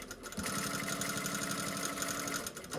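Sewing machine running steadily while top stitching along a pocket edge with a long stitch length near an overlocked seam, an edge foot guiding it; continuous close mechanical whir with rapid needle rhythm, no talking.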